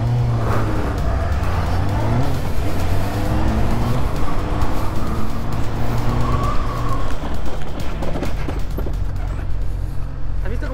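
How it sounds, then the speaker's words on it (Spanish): A motorcycle under hard braking on a licence training course: its engine note drops as it slows, then carries on at a steady low drone. A voice may be faintly heard in the background. "vamos a intentar ahora pegar una frenada en condiciones"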